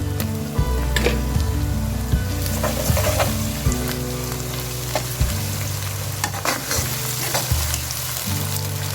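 Loud, close sizzle of ginger-garlic paste hitting hot oil, with periodic stirring scrapes and clinks over a constant frying hiss.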